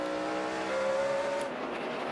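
NASCAR Sprint Cup race car at Bristol Motor Speedway in 2011, a loud engine holding a sustained high whine that rises slightly and then drops away as the car passes, with no speech.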